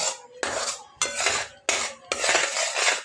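Jaggery stirred in a pan for peanut chikki: a metal spoon scrapes and clatters against the pan in four long strokes, close and fairly loud, with no talk.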